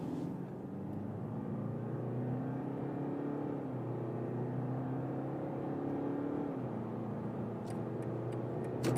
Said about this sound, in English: Let's go to the sport mode for acceleration. Here we start from 50 kilometers an hour.